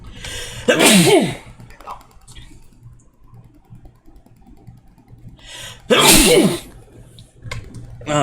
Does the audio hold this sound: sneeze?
yes